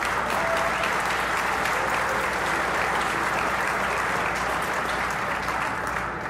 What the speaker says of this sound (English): clap for your regiment